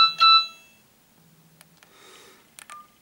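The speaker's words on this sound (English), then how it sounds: "you've got your standard message tones" Nokia 108 mobile phone sounds a short electronic message tone, a few clear beeping notes at the start followed by quieter scattered bleeps and clicks, with no talking.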